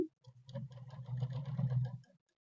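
A sewing machine stitches a Madhubala-style blouse, giving a close, brief run of rapid rhythmic needle clatter that starts and stops within about two seconds.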